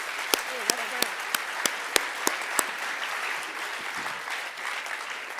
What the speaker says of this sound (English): Once again, another round of applause for our hardworking graduates.